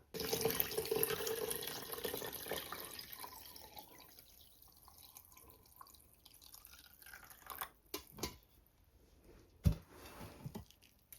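Homemade broth trickles through a small tea strainer while a Thanksgiving dinner is prepared, a steady close pour and drip that thins out, ending in a few scattered drops and light clinks.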